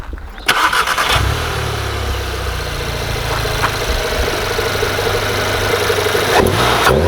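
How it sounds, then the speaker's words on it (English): A Volkswagen Golf R fitted with a cold air intake is started and revved, the engine roaring loud and close with a strong intake rush, holding a steady rumble before a final blip. "you just hear it sucking in air super loud"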